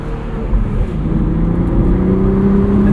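A 2025 BMW Z4 M40i with a six-speed manual accelerates in Sport Plus mode, its engine note climbing steadily in pitch as revs build, loud and close from inside the car with no talking.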